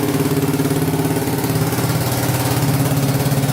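A Kawasaki KLT 250 three-wheeler engine idles steadily and loudly up close, a continuous throbbing putter with no speech over it.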